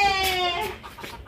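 A domestic duck quacks close by at a house during mehendi party preparations: one drawn-out, nasal, harmonic call with slight breaks, loud and clear over quiet room background, no talking.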